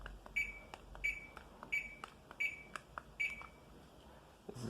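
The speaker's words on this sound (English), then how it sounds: "This is one of my first fans to have an audible beep." A DC motor ceiling fan gives short electronic beeps as its speed changes, five evenly spaced chirps about every 0.7 seconds, clear and fairly close, with soft clicks between them and no talking.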